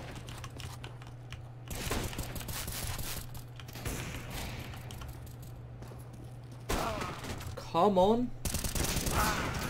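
Gunfire during competitive Counter-Strike: Global Offensive play, scattered bursts of shots and game effects spread across the stretch alongside keyboard clatter, with a brief spoken remark and a loud burst near the end.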